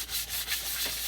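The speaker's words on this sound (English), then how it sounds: "We're going to sand back and forth," Sandpaper rubs back and forth over cured epoxy resin in a steady, close scratchy hiss with soft rhythmic swells, no voices.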